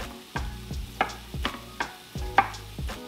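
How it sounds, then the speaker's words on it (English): Knife chopping shrimp on a cutting board for shrimp tacos: about seven sharp, evenly spaced thuds close by, each with a short ring, and no voices. "So I'm gonna cut the shrimps into 3s."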